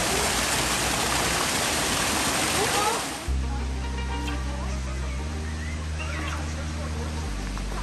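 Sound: flowing water in a butterfly house

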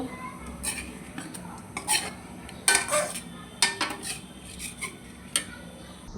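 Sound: lifting boiled beans out of a pan with a spoon

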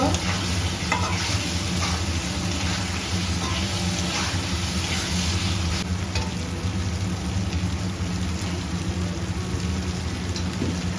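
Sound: potatoes frying and being stirred in a pan

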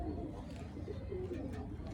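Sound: pigeon cooing

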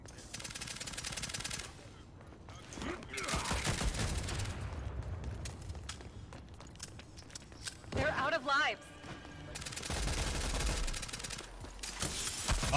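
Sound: shotgun gunfire in a video game

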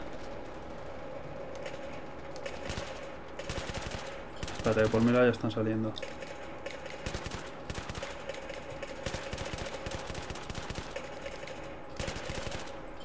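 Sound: gunfire from the video game Battlefield 3

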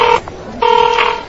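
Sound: telephone dialing or ringing to call the boss

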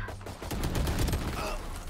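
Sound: gunfire from the video game Valorant

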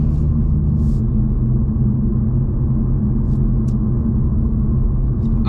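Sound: Toyota Supra straight-six exhaust after the exhaust valve closes

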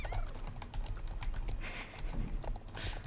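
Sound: horse hooves clip-clopping in video game Star Stable Online

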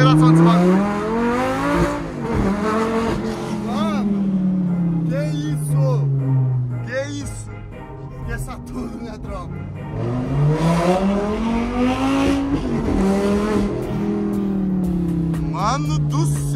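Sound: Lamborghini sports car accelerating

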